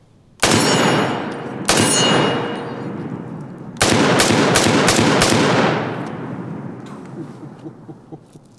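Loud .308 rifle shots fired at a steel target outdoors, a couple of sharp blasts followed by a rapid string of five or six more, each with a long echoing decay.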